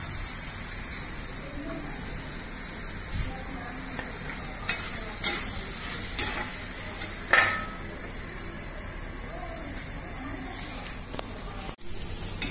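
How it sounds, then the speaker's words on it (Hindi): Spice paste with potatoes frying and being stirred in a pan, a steady hiss of sizzling broken by scattered scraping clicks of a spoon against the pan, fairly close and even throughout. "ये पूरा मसाला एकदम अच्छे से भुन गया"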